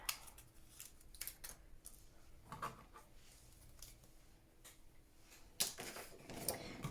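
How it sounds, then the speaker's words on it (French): Scissors cutting through a long paper garland for a handmade illuminated Christmas window card, steady soft crunching snips close up and quiet, a few sharper clicks, no voices. "Je vais venir découper ici cette grande guirlande."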